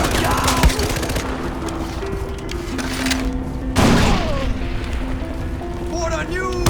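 Dense automatic gunfire from a custom-built video game level rattles almost continuously, with a sharper burst partway through and a steady drone beneath.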